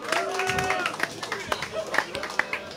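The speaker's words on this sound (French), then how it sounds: "Merci, applaudissements pour Fiax, s'il vous plaît" Clapping and cheering from a lively crowd at a Gamekult 15th-anniversary party, dense and continuous with sharper claps standing out and voices mixed in the hubbub.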